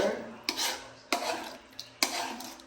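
A spoon stirring spaghetti sauce together in a pan, three or four scraping strokes with light clinks against the cookware, close by and moderately quiet.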